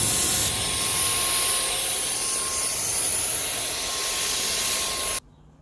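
Wagner Universal W570 Flexio paint sprayer running while spraying a fence panel, a steady loud hiss of air and atomised paint held for about five seconds before cutting off abruptly into near silence.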